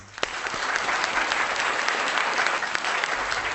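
Enthusiastic audience applause greeting a poet, the schoolteacher Sandhya Saral, as she takes the stage at a Hindi kavi sammelan; steady, dense clapping throughout with a few sharper claps standing out.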